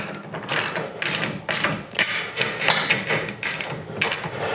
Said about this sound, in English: that's a 3/8 wrench. You'll take this and you'll tighten these down.